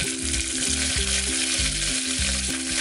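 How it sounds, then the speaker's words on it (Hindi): Mustard seeds and curry leaves sizzling in hot oil, a loud continuous crackling hiss with low rhythmic clatter of stirring underneath, close up and with no voices. "तेल को गर्म होने के बाद इसमें हम डालेंगे 1 चम्मच करीब राई और करी पत्ता"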